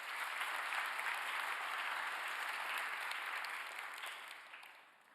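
An audience at a national policy report event applauds steadily, a thick, even patter of many hands that holds strong before gradually fading out toward the end, with no speech over it.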